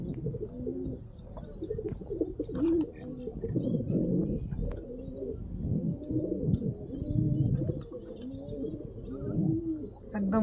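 Kalshira pigeons kept for sale, repeated soft throaty coos rolling one after another close by, with faint chirps above and some quiet talk underneath.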